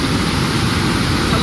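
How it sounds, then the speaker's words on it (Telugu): Rushing water at Dhoni waterfalls, reached after a rainy rocky trek, with rain falling: a loud, steady, dense roar with no break throughout. "ఇప్పుడైతే ధోని వాటర్ ఫాల్స్కి వచ్చాము"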